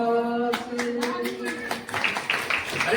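An audience at a Krishna religious satsang claps in a loose rhythm, distinct slaps starting early and thickening into fuller applause, heard alongside a sustained sung or spoken voice.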